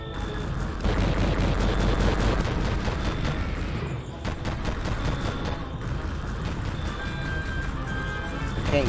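Rapid bursts of gunfire and booming shots in the video game Conflict: Vietnam, dense and continuous battle noise with a voice talking over it.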